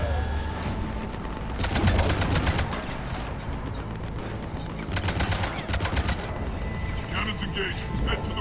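Cannons and heavy weapons firing in a Mass Effect 3 battle: repeated loud bursts and booming shots in clusters, with mechanical clatter between them and faint game voices underneath.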